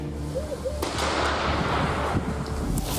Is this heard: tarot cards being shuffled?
no